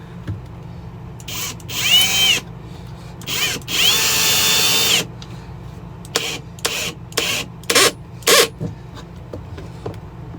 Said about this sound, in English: So there's the first screw in, and I will do this across here just to get this thing down solid.